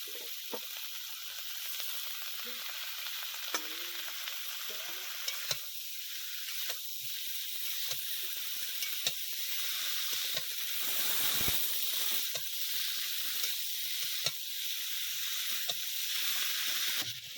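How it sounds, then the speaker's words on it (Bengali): Pumpkin stalks frying with potatoes in a pan give a steady, soft sizzle throughout, broken by scattered small ticks and occasional stirring scrapes, heard close with no voices. "ডাঁটাটা ভাজা ভাজা হয়ে গেছে"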